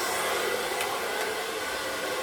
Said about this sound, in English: make sure you keep your dryer moving